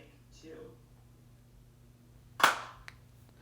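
One sharp hand clap for syncing audio and video rings out near the end, loud and close, followed by a faint echo. Brief speech comes just before it.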